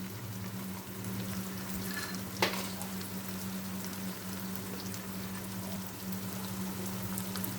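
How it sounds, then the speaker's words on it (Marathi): Peanuts fry in hot tempering oil for upma, giving a steady soft sizzle and crackle throughout with one brief sharper pop, under a low constant hum and no talking. "आपण हे फोडणीमध्ये शेंगदाणे टाकून घेऊया"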